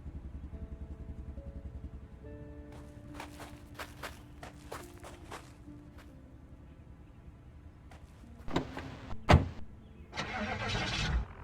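A truck engine cranks and turns over in the zombie-survival game Project Zomboid, preceded by rhythmic footsteps and scattered game clicks, with louder rumbling bursts near the end; close and fairly loud, no talk.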